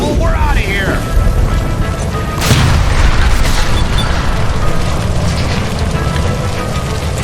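A loud boom and rumbling blast from a gas line explosion in L.A. Noire, with a sharp burst partway through over sustained roaring noise.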